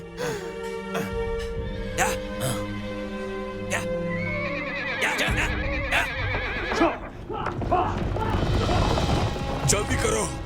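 A horse neighs loudly in a Chinese war action film scene, its long whinny ringing out up close, followed by hoofbeats, clattering commotion and voices.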